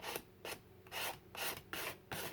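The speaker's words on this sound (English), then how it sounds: "I'm also going to lightly sand the inside where I've got this acrylic paint." Light sandpaper rubbing over an acrylic-painted mini junk journal cover, a series of short rasping back-and-forth strokes in an uneven rhythm, close and fairly quiet with no talking.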